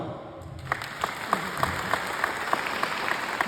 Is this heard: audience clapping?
yes